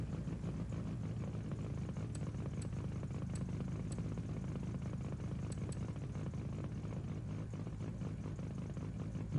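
Car engine idling in a video game, a low steady rumbling drone holding level throughout with a few faint high ticks scattered above it, no talk.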